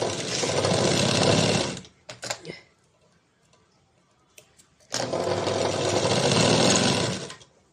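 A sewing machine runs in two loud sustained bursts stitching the open side of a blouse sleeve, with a short pause and a few clicks between runs and no talk.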